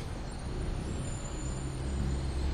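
Street traffic on Comm Ave makes a steady, moderately loud roadway rumble, with passing vehicles swelling slightly and a faint high whine over the continuous roar.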